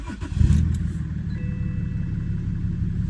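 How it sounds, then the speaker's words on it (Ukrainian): A car engine cranks and catches almost immediately, with a loud burst at start-up that settles into a steady, close idle rumble. "Заводиться з полуоборотом ще."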